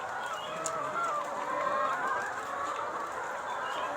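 Laying hens cluck in a two-level chicken coop, a dense, continuous chorus of overlapping clucks and murmurs from many birds close by.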